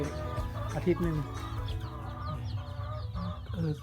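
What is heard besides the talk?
young chickens clucking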